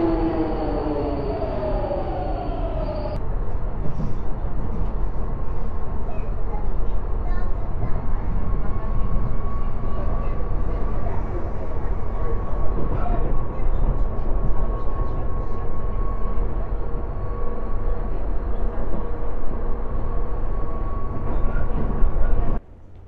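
Train at a railway station, a steady low rumble with a sustained tone filling the platform ambience, loud and continuous throughout, an abrupt change in character after a few seconds, no speech.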